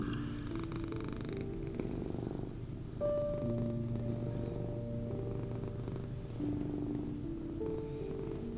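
A domestic cat purrs steadily and close up in a low rumbling drone, continuous throughout with slight swells in the rhythm of its breathing.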